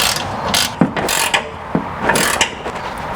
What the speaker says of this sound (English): So we're going to sneak our 19mm wrench up in here, and our 17 right here.